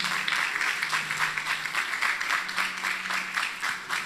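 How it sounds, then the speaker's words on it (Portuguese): Sustained applause from a church congregation, steady and fairly loud throughout, with no talking over it. "Você pode aplaudir ao Senhor Jesus Cristo de Nazaré"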